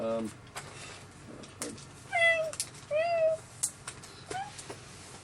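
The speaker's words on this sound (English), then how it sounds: "Cat." A cat meows three times in short, clear, rising-and-falling calls spaced about a second apart, close and moderately loud over a faint background hum.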